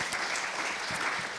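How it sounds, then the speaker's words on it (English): Audience applause at a screen industry summit panel in Wales, a steady dense wash of clapping from a sizeable crowd filling the whole short moment with no voices over it. "yeah, clap."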